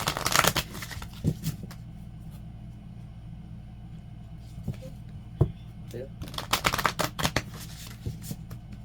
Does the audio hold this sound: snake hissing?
no